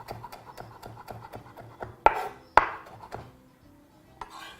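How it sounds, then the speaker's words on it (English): A knife chops salad leaves on a chopping board in quick, rhythmic soft taps, with two sharp louder knocks midway and a fainter tap near the end; close and clear with no talk. "assembling those very firmly on the surface of your chopping board, and proceed to chop."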